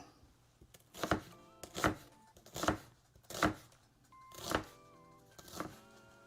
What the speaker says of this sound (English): Let's continue chopping this then